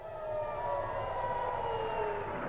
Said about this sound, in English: Sirens sounded in Tel Aviv overnight